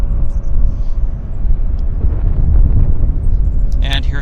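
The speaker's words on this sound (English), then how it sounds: "This is the Vancouver Montreal Air Canada 306 A330 taxiing out." An Air Canada Airbus A330 taxiing out at Vancouver Airport makes a steady low rumble heard from a distance, with a faint tonal hum running through it and a brief brighter whine near the end.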